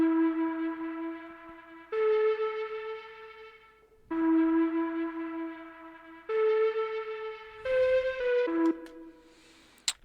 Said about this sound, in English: It's a flute one shot from Kyrie's Beats one shot pack, the Moonlight one.